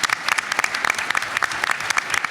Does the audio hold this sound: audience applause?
yes